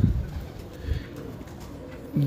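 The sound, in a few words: champion flying pigeons cooing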